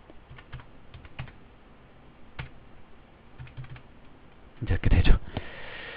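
Keystrokes on a computer keyboard tap in sparse, separate clicks, then a quicker, louder burst of presses ends in a firm Enter strike while entering figures in an accounting spreadsheet; close and fairly quiet, no talking.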